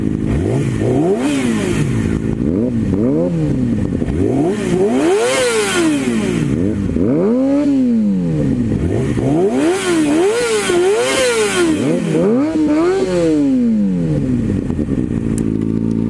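Yamaha R6 and Kawasaki ZX6R sport motorcycle engines rev repeatedly, pitch rising and falling in sharp sweeps, loud and close with a constant rumbling clatter underneath.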